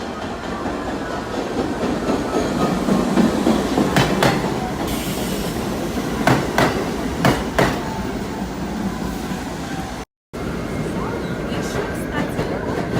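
A New York subway train on an elevated track crossing the Manhattan Bridge, a loud continuous rumble with rhythmic clacking of wheels over rail joints and bursts of wheel squeal, heard from inside the car.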